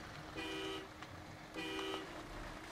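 Two steady honks from a truck horn in the off-road driving game SnowRunner, each lasting under half a second, sound over a low continuous engine rumble.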